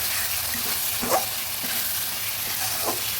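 Spices being stirred in a pan with a little water while cooking a Bengali papaya and country chicken curry, soft continuous scraping and light sizzling with a couple of brief sharper clinks.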